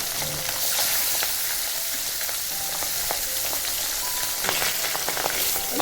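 Dense, steady sizzling and crackling of small pabda fish frying in hot mustard oil, with occasional utensil taps and scrapes, close and continuous throughout.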